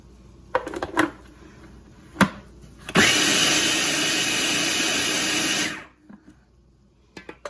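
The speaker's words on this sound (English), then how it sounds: "Now mix it a little bit in the food processor." A food processor whirs steadily for about three seconds as it mixes kebbe mixture, a loud continuous motor drone with some clatter and handling knocks before and after.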